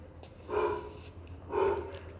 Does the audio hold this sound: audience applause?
no